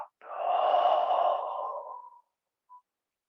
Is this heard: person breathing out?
yes